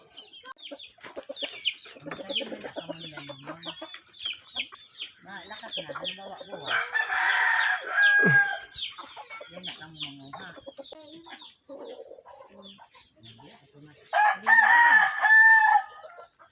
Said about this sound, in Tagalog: merong mga manok